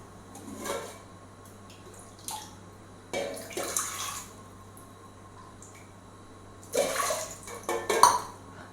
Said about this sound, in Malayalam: ഒരു 2 ഗ്ലാസ് വെള്ളം ഒഴിച്ച് കൊടുത്തു.